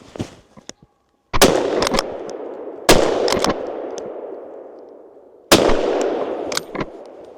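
Several loud gunshots crack out at irregular intervals outdoors during a driven wild boar and deer hunt, each followed by a long echoing decay.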